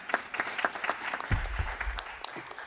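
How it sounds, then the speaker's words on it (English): Audience applause at a civil society session of a Global Environment Facility council meeting, a steady room-wide clapping that holds for about three seconds, fairly close, with a few low thumps beneath it and no speech over it. "a big round of applause for our good friend here from Burundi"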